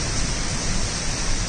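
A dense, loud wash of heavy rain driven by strong wind roars continuously and evenly, close and unbroken, with no other sounds over it.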